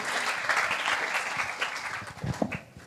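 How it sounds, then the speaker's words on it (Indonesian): An audience at an Indonesian religious gathering gives a short round of clapping, moderately loud and uneven, tapering off with a few scattered claps and faint voices at the end. "Tepuk tangan Tepuk tangan dong"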